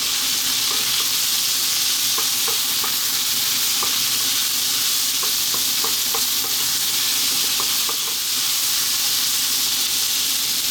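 Vegetable noodles seasoned with salt and black pepper sizzle loudly in a hot pan, a constant close frying hiss broken by scattered clicks and scrapes from stirring.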